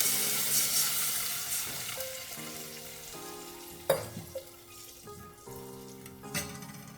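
Water, about one and a half glasses, poured into a hot pan of tempered spices, curry leaves, turmeric and red chilli for Maharashtrian amti: steady sizzling and splashing with a few sharp clinks, close and alone.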